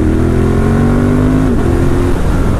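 A 2018 Ducati Monster 1200S engine revs steadily and loudly close by in third gear around 4,000 rpm, its pitch climbing slightly before dipping and holding, with no voices.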